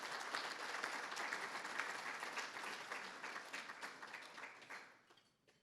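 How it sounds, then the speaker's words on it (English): Applause from a dinner audience welcoming newly inducted Davenport Society members, a dense steady wash of many hands clapping that carries on evenly and then fades out near the end. "Please join me in a round of applause for our newest members being inducted"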